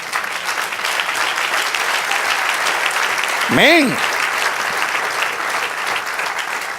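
Sustained applause from a church congregation honoring the Lord, steady and fairly loud throughout, with one voice briefly saying something near the middle.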